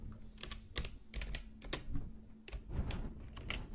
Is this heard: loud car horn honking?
no